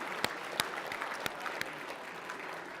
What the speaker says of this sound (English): nice round of applause for the staff here